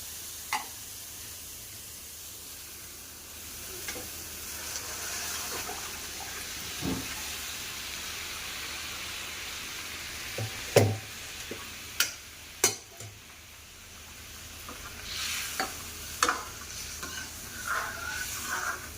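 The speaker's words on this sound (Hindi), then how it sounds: "तो ये मसाला अच्छे से भून चुका है। अब इसमें डाल दूँगी छोले।" Chickpeas are tipped into fried masala in a pan, setting off a continuous close sizzle broken by sharp spoon scrapes and clinks as the mixture is stirred.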